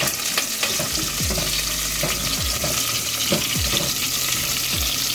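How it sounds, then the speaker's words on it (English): Sliced small onions frying in a pot for brinjal curry, with a constant loud sizzle and repeated scraping knocks as they are stirred at a regular pace. "I'm adding the small onions which is sliced. Give it a nice stir."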